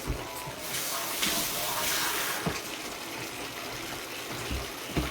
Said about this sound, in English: To add a little bit more water.